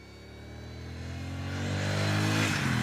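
A Royal Enfield Classic 650 twin motorcycle engine hums steadily on a ride, its low rumble rising in pitch and loudness as it accelerates, with no talk over it.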